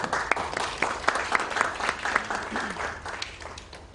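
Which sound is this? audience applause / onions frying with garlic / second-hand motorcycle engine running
audience applause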